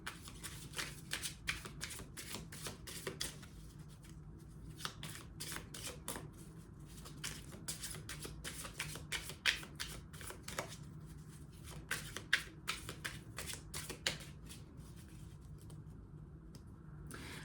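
A tarot-style card deck is shuffled over and over, quick papery riffles and flicks repeating in a steady rhythm, close and fairly quiet with no talking.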